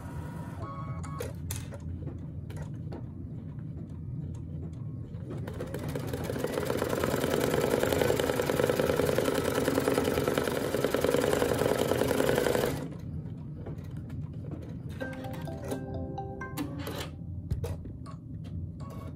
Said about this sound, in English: And now we're ready to stitch this portion of the design.